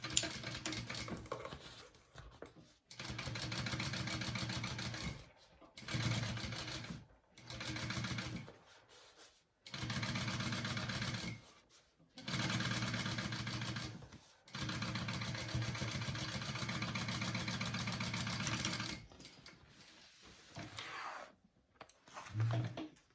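A sewing machine runs in bursts of steady motor whir with short pauses between, top stitching a pressed seam on a PacSac bag; close and clear with no talking.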